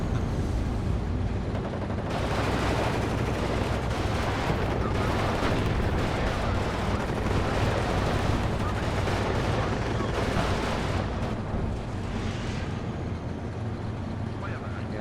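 Artillery fire rumbles through a large-scale battle in the Cold War strategy game Warno, with dense, continuous booms and crackling gunfire layered over a steady roar for the whole stretch.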